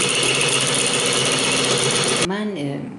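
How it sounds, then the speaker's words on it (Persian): An electric hand mixer whirs steadily at close range as it beats egg yolks with vanilla and warm water for a cream Swiss roll batter, then winds down near the end. "با وانیل و آب گرم مخلوط میکنم و دوباره با همزن شروع میکنم به هم زدن"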